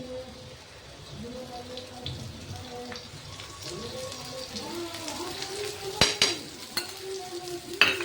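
Thalipeeth frying in ghee in a pan on medium heat: a steady soft sizzle with bubbling crackles and a few sharp clinks near the end.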